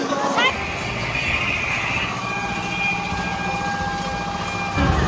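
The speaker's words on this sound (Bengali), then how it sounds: "দেখতে পাচ্ছেন ঝিকঝিক ঝিকঝিক করে ট্রেন এগিয়ে আসছে" A homemade model of the Vande Bharat train runs along its track with a steady whirring motor hum and faint rattling, while people talk over it throughout.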